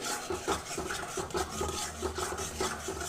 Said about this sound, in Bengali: দেখতেই পাচ্ছ মশলাটাকে ভালো করে কষিয়ে নিচ্ছি